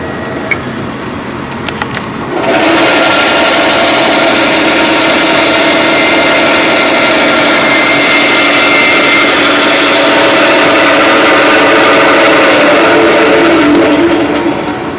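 A band saw blade cuts through a piece of wood, starting after a couple of seconds of near quiet and then running as a loud, steady, close whine and rasp that continues to the end, with no talking.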